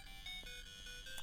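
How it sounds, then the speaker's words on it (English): A quiet phone alarm ringtone plays a short melodic sequence of electronic tones, faint and brief over low background noise. "That was my alarm to take my Zoloft"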